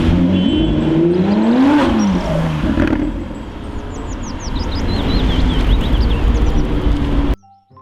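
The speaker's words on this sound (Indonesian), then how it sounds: "Yang ini ada mobil balap teman-teman." A toy race car whirs and revs with wavering, rising and falling pitch, loud and close, before cutting off abruptly at the end.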